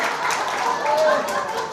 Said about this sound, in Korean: 손뼉을 치고 웃어볼까요?